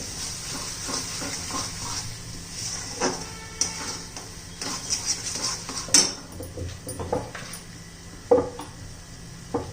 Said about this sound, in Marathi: छान असं परतून घेणार आहोत आपण आता हा मसाला, एक 2-3 मिनिटं तरी.